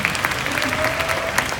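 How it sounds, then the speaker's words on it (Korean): Brief burst of audience applause at a youth blessing education session, dense clapping from a crowd in a room, short and moderately loud. "박수 한번 쳐주시죠."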